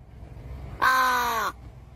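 A single crow gives one harsh, drawn-out caw lasting under a second, loud and close against a quiet background.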